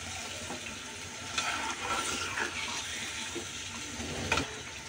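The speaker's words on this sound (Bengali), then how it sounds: "সামান্য পানি দিয়ে দিচ্ছি।" A little water is poured into a pot of spiced chicken bones and whole jackfruit seeds, giving a soft continuous splashing pour close by with light sizzling underneath.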